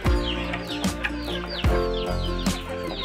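Chickens squabble outdoors in a village, loud clucks and sharp squawks bursting out repeatedly at close range over a constant background hum.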